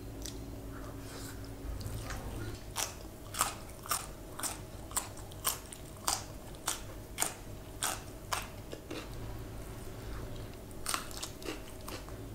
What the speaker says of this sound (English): today I'll be doing pizza mukbang.